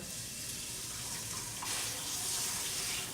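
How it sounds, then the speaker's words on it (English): Tap water runs steadily over dandelion greens as they are rinsed, a soft constant splash that swells slightly midway, with no speech. "So I'm just going to rinse these greens here"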